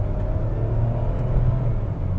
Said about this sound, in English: The engine does get boomy and noisy. Of course, it's a 3-cylinder setup.